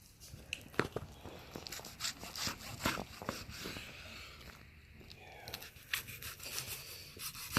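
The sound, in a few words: knife cutting smoked baby back ribs between the bones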